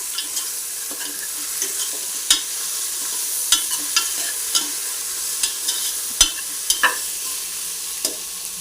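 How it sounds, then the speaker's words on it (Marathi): Colocasia (alu) vegetable mixture being stirred and sautéed in a pan, a steady soft frying hiss broken by irregular scraping clicks of a spoon, close and clear with no talking. "आता सगळं एकत्र मिक्स करून घेऊया छान परतून घेऊया"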